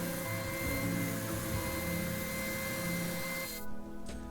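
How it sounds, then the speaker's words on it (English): An oscillating drum sander runs steadily, smoothing the curved handle cutout of a wooden serving tray, giving a continuous close whirring hum that stops near the end. "Using our oscillating drum sander, we clean up our handle cutout,"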